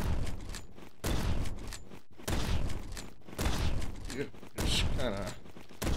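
Gunfire crackles in the shooter game Bad Business, coming in several separate bursts with short gaps between them. A voice talks briefly between the shots.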